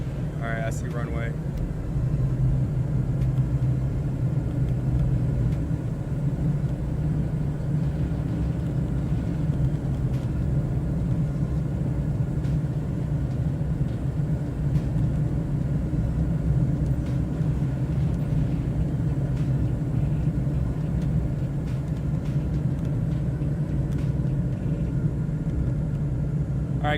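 A steady, loud propeller-engine drone in a flight simulator game runs unbroken throughout a landing approach, with voices now and then over it.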